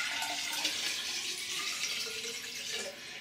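Water pouring steadily into a hydroponic plant container, a continuous close splashing rush that holds even for a few seconds and eases slightly at the end.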